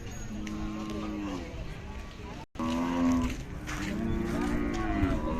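A Khillar cow moos in a few long, low, drawn-out calls close by, with a brief break between them and faint farmyard noise around.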